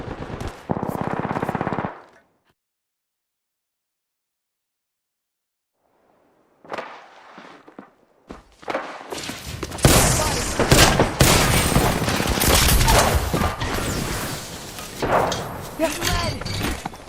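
Video game gunfire in a battle royale match: a short burst at the start, a silent gap, then sustained loud automatic fire and rapid shots with explosions, dense and close, with faint voices in the mix.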